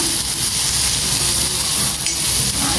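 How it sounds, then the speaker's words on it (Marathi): Onion frying in a little oil in a pan for a spicy Malvani-style wet cashew curry, giving a steady, close sizzle with faint stirring scrapes throughout and no talking. "कांद्यामध्ये मी थोडंसं तेल टाकलं आहे"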